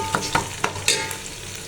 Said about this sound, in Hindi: और ये देखिए फ्राई हो रहा है